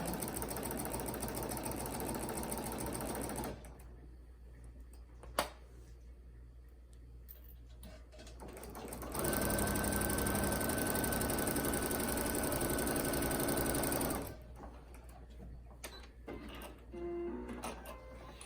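A sewing machine stitching quilt fabric runs in two sustained whirring stretches, close and steady, separated by quieter pauses with small handling clicks as the fabric is repositioned.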